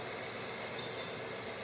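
A BNSF L750 local freight train stopped briefly at the Summer Lake Railroad Museum gives a steady, dense rail rumble with a thin high squeal of wheels riding over it, constant throughout.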